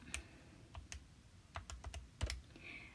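Sharp, separate key presses on a calculator while entering a logarithm, about nine quick taps in an irregular rhythm, close and fairly quiet with no talk.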